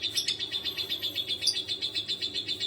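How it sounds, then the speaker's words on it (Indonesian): A young lovebird of about two months, a three-colour pet bird, gives a fast, steady run of high chirps, roughly five or six per second, close and clear against a faint low hum. "Ini anak burung kemarin nih udah besar dia"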